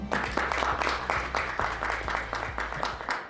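A conference audience applauds a vice-president welcoming guests at a Korean university project results event, steady dense clapping filling the room throughout, with a low hum beneath.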